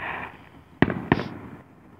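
Fireworks at a fireworks show go off in two sharp, loud bangs about a quarter second apart over a low background rumble, with no talk.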